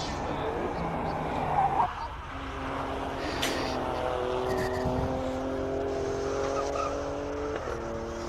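An Alfa Stelvio is driven hard up the Simola hillclimb, its engine revving and shifting through rising and falling tones, with brief tire noise, while a commentator talks over the run.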